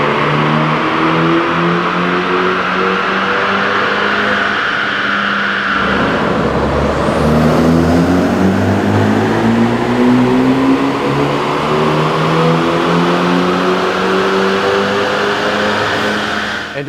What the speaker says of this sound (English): let's dyno Justin's stock F30 328 and see what we're working with